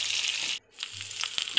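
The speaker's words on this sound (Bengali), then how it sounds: "ওই জন্য মাছগুলোকে ভেজে নিচ্ছে।" Fish frying in hot oil in a pan, a steady close sizzle broken by a brief silent gap before the crackling resumes.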